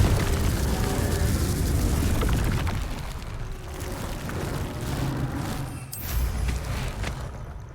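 Confringo spell blast in Hogwarts Legacy, a loud, dense rumbling burst that rolls on for several seconds and fades into a crackling tail with a sharp pop near the end.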